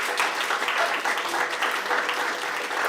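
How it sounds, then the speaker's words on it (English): Audience applause fills a pavilion at the COP29 climate conference, a dense, steady wash of many hands clapping close by for the full stretch, with faint voices underneath. "So can I have a big round of applause"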